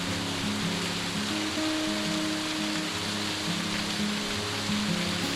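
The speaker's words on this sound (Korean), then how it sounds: "이곳에는 비가 오거나 가뭄이 들거나 변함없는 작은 폭포가 있습니다" A small waterfall in a Seoraksan mountain valley pours in a steady, broad rush of falling water, constant and fairly loud throughout, with no voices.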